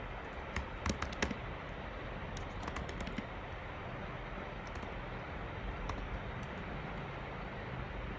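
Code is typed on a computer keyboard. Fast, light key clicks come in quick bursts over a steady background hiss, with a few brief pauses between runs of typing.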